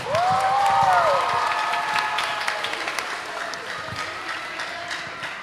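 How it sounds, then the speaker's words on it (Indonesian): Audience applause at a Christmas youth church service, a full crowd clapping and cheering loudly, swelling early and then thinning out over several seconds, with a voice rising above it at the start. "Berikan tepuk tangan sekali lagi untuk Bernadette Sihotan"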